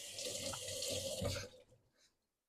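A kitchen sink tap runs close by as something is rinsed off, a steady splashing stream that tapers off and stops after a second or two.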